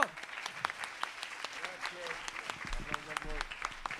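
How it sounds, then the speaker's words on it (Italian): Audience applause at a school film gala in Italy, steady crowd clapping that continues throughout at moderate level, with a voice talking over it. "Un applauso di incoraggiamento."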